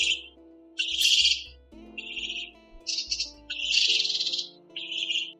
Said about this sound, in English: The Northern Bald Ibis is a very quiet bird and has a very low call.